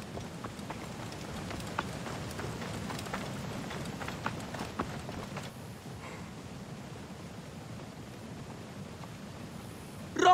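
Horses galloping in the video game Assassin's Creed Origins, a steady rapid drumming of hooves over ground with a soft noisy wash, fading quieter after the first half.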